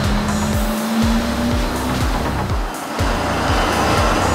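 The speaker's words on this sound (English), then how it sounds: "There are so many awesome cars down here." Powerful cars roaring past one after another on a street in Monte Carlo, loud repeated engine swells and passes close by, one engine note rising steadily, with no talk.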